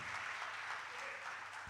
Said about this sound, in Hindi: तालियों में ताकत दिखनी चाहिए,